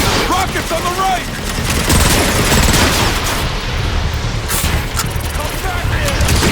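Rapid gunfire and rocket blasts erupt in a chaotic firefight in Transformers: Fall of Cybertron, dense overlapping bursts and booms loud and close throughout.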